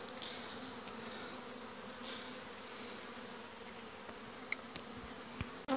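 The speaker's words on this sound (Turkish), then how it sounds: "Şimdi buradan arı sirkeleyeceğim." Honeybees being shaken off hive frames while a weak colony is split into four, filling the air with a continuous low buzzing swarm, with a few sharp knocks and bumps near the end.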